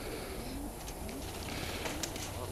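A large cock pigeon, a cross of German owl and Uzbek tumbler, coos softly in a low murmuring drone, close but quiet under steady background noise, with no talk.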